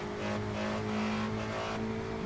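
A race car engine in a sim racing game at Willow Springs drones loud and steady at full throttle, strong tonal hum with no talk over it.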